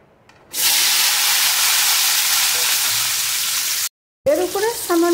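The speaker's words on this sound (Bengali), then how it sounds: "এবারে ফুলকপি আর পটলগুলো ভেজে নেব।" Cauliflower and pointed gourd pieces hit hot oil in a wok, and a loud, sudden sizzle bursts up and holds steady for several seconds. After a short break, a voice speaks over the frying.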